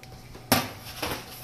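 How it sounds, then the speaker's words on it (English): Metal pan being set out for pressing bear molds: a sharp clank, then two lighter metallic knocks in a quiet room. "let me get the pan here"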